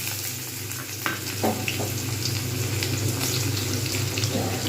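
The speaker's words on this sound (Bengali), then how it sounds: "এই তেলেতেই আমি দিয়ে দেবো পেঁয়াজ কুচোনো" Chopped onion frying in the oil left from roasting peanuts, a steady low sizzle with occasional stirring clinks and splashes throughout, close and fairly quiet, no talk.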